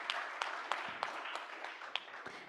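A small audience at a research collaboration workshop claps for a panel discussion, producing sparse, evenly spaced individual claps over a soft background for a couple of seconds.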